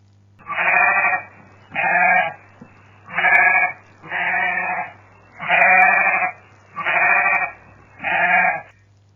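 A sheep bleats seven times in a steady, evenly spaced series of loud, close calls, with a faint low hum between them.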